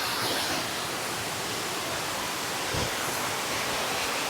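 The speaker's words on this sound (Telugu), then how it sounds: "ఇది వాటర్ ఫాల్ అయితే ముందు చాలా బాగుంది." A waterfall in a hidden forest spot in Andhra Pradesh pours in a steady, dense rush of broadband water noise, constant and fairly loud throughout with no voices.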